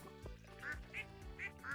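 Ducks on the farm in Stardew Valley quacking in a short series of four clear game-sound quacks, close and distinct, over a quiet tonal background.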